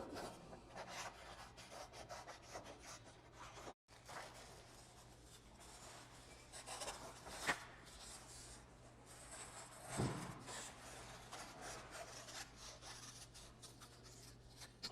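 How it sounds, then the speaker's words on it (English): Quiet, steady rasping and rubbing of scissors or a blade cutting out a paper kaleidoscope template, a continuous soft scratchy texture with a few small knocks, close by and without talk. "Now I can cut out my template."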